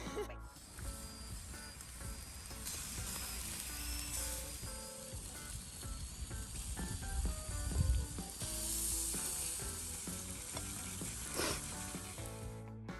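Steady, loud sizzling of a sausage grilling on a barbecue built from a kitchen sink, crackling continuously throughout with occasional clinks and a brief thump.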